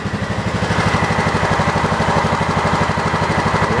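The new engine on a John Deere 225 zero-turn mower runs steadily close by, a loud, even, rapidly pulsing putter with a mid-range mechanical hum and no break in the rhythm.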